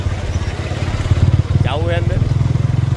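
Motorcycle engines putter loudly and rhythmically in night traffic in Surendranagar, close by, while someone speaks briefly over the engine noise.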